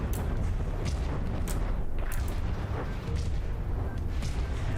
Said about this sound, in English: Bam, more cram explosions.